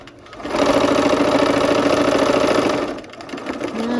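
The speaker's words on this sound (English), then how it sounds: "let's go ahead and sew that last seam" A sewing machine stitches the last seam of a quilt block, a loud, steady, rapid mechanical whir lasting about two and a half seconds before slowing to a stop, with faint handling sounds after.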